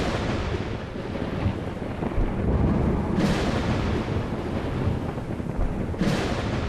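Thunder rumbles under a cloudless, dry desert sky: a continuous deep, rolling low roar with two sharper cracks standing out, heard far off and without any voices.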